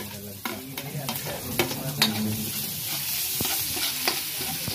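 Ginger sizzling as it is sautéed in a pan with chilies while cooking octopus, a loud steady frying hiss broken by clattering stirs of a utensil against the pan.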